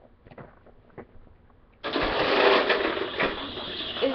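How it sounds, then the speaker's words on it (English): A toy lawnmower for babies plays its engine sound effect, switching on abruptly into a loud, steady buzzing rumble that continues to the end after some quiet clicks and handling noises. "He got this also for his birthday. It's a little lawnmower."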